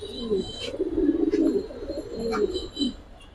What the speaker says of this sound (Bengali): লাল বাতি জাতের কবুতর